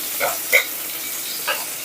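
A few soft scraping stirs of tomatoes in a pan over a faint steady sizzle of frying.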